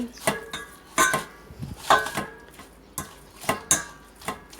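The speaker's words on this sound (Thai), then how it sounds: "ใส่แป้งนัวหรือว่าชูรส ใส่นนึง เรียบร้อยแล้วก็คน" A spoon stirs seasoning powder into a vegetable fern mixture in a bowl, giving close, repeated clinks and scrapes against the bowl roughly once a second, with no talking.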